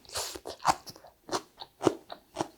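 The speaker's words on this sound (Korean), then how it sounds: "유자청 소스에 묻힌 무생채를 먹어보도록 할게요." Crunchy raw radish salad dressed in citron (yuja) sauce being chewed up close, a series of about six crisp, rhythmic crunches with short pauses between them.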